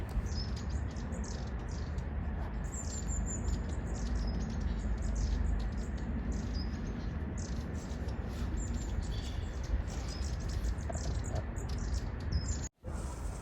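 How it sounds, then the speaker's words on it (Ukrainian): Several species of small birds sing outdoors in Belgium, a tit among them. High chirps and tweets come thick and near above a steady hiss of background noise. "пташки просто всюди просто поруч нас над нами та співають, наче прийшла весна"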